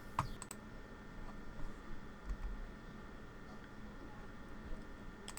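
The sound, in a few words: typing on computer keyboard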